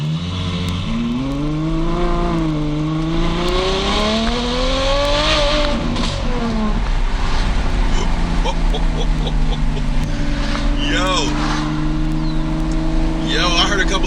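A Ferrari F12 with an FI exhaust and DME tune accelerates hard, its engine climbing through rising revs with gear changes and a few crackles, loud and close from inside the cabin, with occasional voices underneath.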